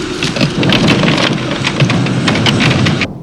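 An electric storm sets in with heavy, steady rain drumming on surfaces and a deep rolling rumble of thunder underneath, loud and continuous before cutting off abruptly.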